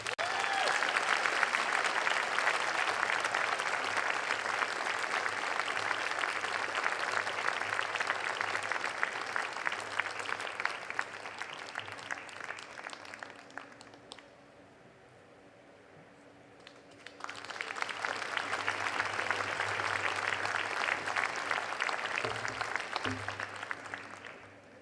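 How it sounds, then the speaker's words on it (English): An audience applauding at a graduate convocation, dense steady clapping that fills the hall, fades to near silence for a few seconds, then swells back to full strength. "Please join me in applauding Emily Elizabeth Holtz"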